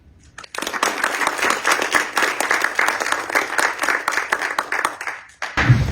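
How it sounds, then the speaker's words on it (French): Audience applause in Monaco's National Council chamber as a guest is welcomed to speak, a dense, steady wash of many hands clapping for about five seconds before fading, with a brief louder burst at the end. "je vais vous demander de l'applaudir"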